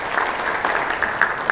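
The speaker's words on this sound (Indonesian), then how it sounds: "Tepuk tangan ya." Steady applause from an audience at a meeting of West Java business leaders, a dense continuous patter of clapping hands with no voices over it.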